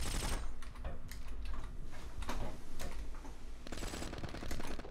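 Rapid bursts of automatic gunfire from the shooter game War Trigger 2 rattle in quick clusters, fairly faint and crackly, with short gaps between volleys.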